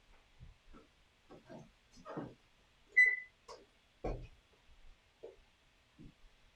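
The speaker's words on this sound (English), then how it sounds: "we're going to set a timer for 3 hours" Kitchen timer gives one short, clear electronic beep as it is set for a beef stew, among faint scattered clicks and handling sounds in a quiet kitchen.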